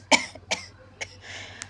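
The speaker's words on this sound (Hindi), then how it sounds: "खांसी हो रही है" Several sharp coughs close by, three or four bursts spaced about half a second apart, with quiet between them.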